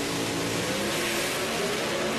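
Drag racing cars launching side by side off the start line at Joliet, a loud sustained engine roar filling the clip with no talk.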